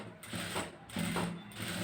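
A sewing machine stitches blouse back neck lining cloth in short bursts of quiet mechanical whirring, pausing briefly between runs.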